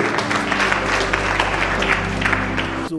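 A church congregation breaks into dense, loud, sustained applause at a Christian gathering, a steady wash of clapping from many hands that cuts off abruptly at the end.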